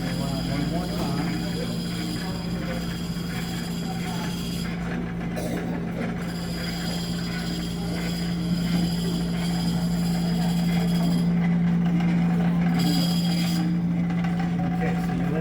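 A lapidary cabbing machine hums steadily at close range as it spins down, its drone continuing under the operator's speech.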